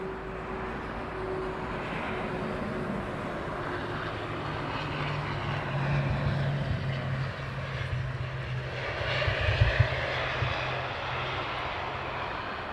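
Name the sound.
propeller aircraft engine at London Heathrow Airport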